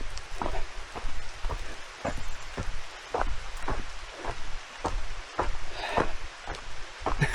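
Steady rain falls outdoors as a soft, continuous hiss, with a rhythm of duller patters or taps recurring about twice a second, fairly quiet and with no talking.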